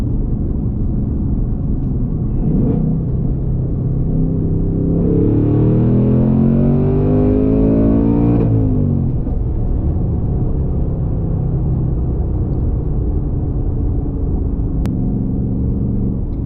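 A modified S650 Mustang GT's engine roars steadily from inside the car, with a rising rumble through the middle of the stretch as it accelerates, then settles back to a constant loud drone.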